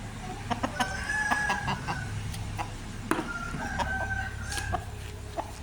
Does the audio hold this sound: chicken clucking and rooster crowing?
yes